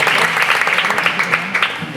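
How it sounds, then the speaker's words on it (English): Brief burst of audience applause at a spoken-word poetry session, close and loud clapping from a small crowd, steady and unbroken for a couple of seconds. "Round of applause, enkosi Mthutuzeli."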